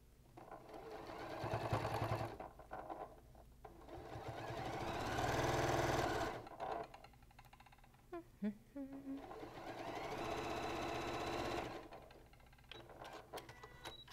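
Sewing machine stitching pieces of quilt fabric together, running in several long whirring bursts with brief pauses and a few clicks between them, while a voice talks softly underneath.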